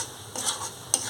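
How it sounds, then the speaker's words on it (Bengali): Turmeric and salt frying in a pan while being stirred, heard as a soft close sizzle with two brief bursts of scraping as a spoon moves through, quiet and without talk. "তারপর মশলাগুলো একটু ভাজা নেব"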